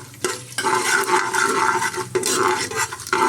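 Urad dal and chana dal frying in oil in a pan for vangi bath, a steady close sizzle with bursts of stirring and scraping from a spoon against the pan, no voices.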